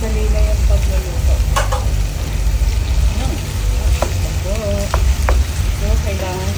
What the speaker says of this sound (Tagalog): Next ko na ay ilalagay ko na po yung pork.